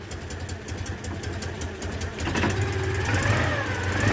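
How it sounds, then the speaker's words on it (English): A Citroen 2CV engine idles with a crack in its exhaust pipe, giving a steady, near, low chugging throb with a slight rise in intensity partway through. "Sounds just like a 2CV should."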